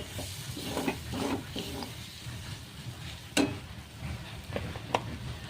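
Onions frying with chili powder in a pan for an egg-and-onion dish, soft sizzling under repeated scraping and stirring strokes, with a few sharper clinks against the pan.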